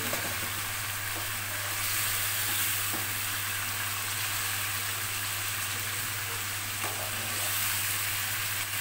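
Katla fish pieces frying in spice paste in a pan over a low hum, a continuous close sizzle and hiss with faint stirring scrapes throughout.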